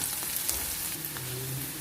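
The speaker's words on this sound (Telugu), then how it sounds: "ఉల్లిపాయ ముక్కలు ఎక్కువ వేగకూడదు." Onion pieces frying in a pan for an egg dish, a steady close sizzle with faint crackles and occasional light stirring taps throughout.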